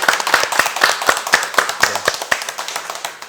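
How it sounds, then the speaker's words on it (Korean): Clapping from an audience at a county council event honoring a council member, a small group close by with distinct individual hand claps in a quick, fairly even rhythm, loud and continuous for the whole stretch without voices. "장시간 함께해 주신 의원님께 큰 박수 부탁드리겠습니다."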